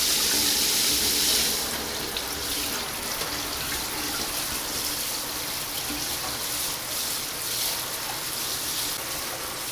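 Shower water runs steadily over a duck in a bathroom, a continuous hiss and splash that holds at an even level for about ten seconds with no voices.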